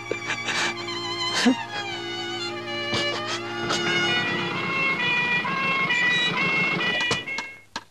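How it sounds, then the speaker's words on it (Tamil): An ambulance siren wails through the scene, its rising and falling tones sustained for several seconds and fairly loud, with other sharp noises breaking in before it fades at the end. "சீக்கிரமா ஒரு ஆம்புலன்ஸ் ஏற்பாடு பண்ணுங்க."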